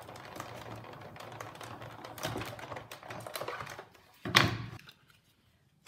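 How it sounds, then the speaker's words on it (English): Lemon Lime Twist cardstock is pressed through an embossing machine in a garden trellis embossing folder, with a quiet grinding crank and rolling, then a louder clunk as the folder comes through before things go quiet. "I have an embossing folder, and I'm going to emboss this layer of Lemon Lime Twist"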